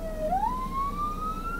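An ambulance siren wails on a Malaysian road, one rising electronic tone sweeping upward over steady traffic rumble, fairly loud and close.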